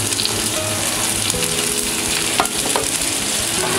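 Green, yellow and red capsicum stir-frying in a pan with onion and paneer: a loud continuous sizzle with light spatula movement throughout.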